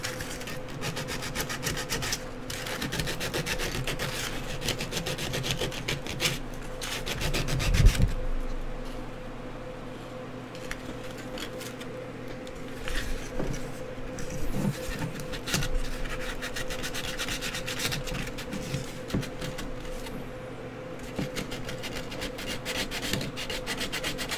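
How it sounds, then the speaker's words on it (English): Scratchy back-and-forth rubbing of a Super Pro sanding stick working the inside of a glass construct, in bursts with short pauses and a louder scrape near the middle, close by and without talking. "sanding this inside thing with a sanding stick is much easier than trying to do this manually"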